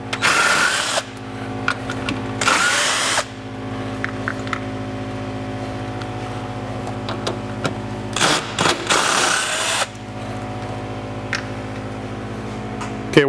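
Power drill backing out the headlight mounting bolts on a 2012 Ford F150, several loud close bursts of whirring separated by pauses, with a steady low mechanical hum running underneath throughout.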